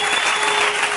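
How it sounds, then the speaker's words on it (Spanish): A church congregation applauds loudly and steadily, a dense uninterrupted wash of clapping hands filling the space with no pause. "Fuerte ese aplauso."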